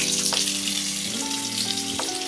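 Torn green chillies and nigella seeds fry in hot oil for a Bengali rui fish recipe, making a loud, close, continuous crackling sizzle with a background tone in the room.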